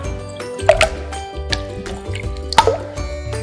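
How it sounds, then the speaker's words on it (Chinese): Wet, sticky squelches and drips of slime being stirred after makeup remover is added, with irregular soft squishes and a few sharper sticky pops, close-up and with no talking. "拿点妈妈的卸妆水，防粘手神器卸妆水，不可缺席的神仙水来喽，搅拌均匀。"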